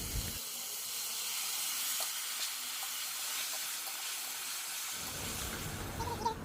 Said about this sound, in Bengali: তো এখানে গোটা জিরা আর পেঁয়াজ একটুখানি রসুন বেটে নিলাম তো মশলাগুলো দিয়ে একটু ভালো করে কষিয়ে নেই